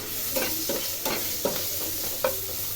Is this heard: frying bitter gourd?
yes